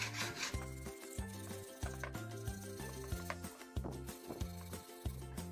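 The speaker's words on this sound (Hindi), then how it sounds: "कुछ इस तरह से हमें सैंड पेपर से इसको घिसना है।" Sandpaper rubbed back and forth along the handle of a cricket bat, a rhythmic rasping scrape repeating about every second, close and steady, with a musical backing track playing underneath.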